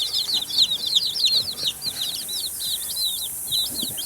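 Young chicks in a warm barn under a heat lamp peep continuously, a close, busy chorus of high cheeps overlapping throughout.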